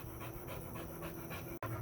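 Dogs pant steadily and quickly up close, a soft rhythmic huffing of breaths, quiet but continuous with a brief dropout near the end.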